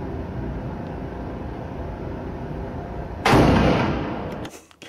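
A single loud gunshot from the Munich attack cuts sharply through steady background noise, then trails off over about a second before falling away.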